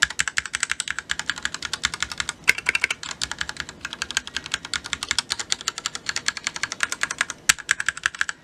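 Typing on a Ducky One 2 Mini keyboard with Cherry MX Red switches, a close, fast, steady patter of keystrokes with a couple of louder key hits, alone without speech.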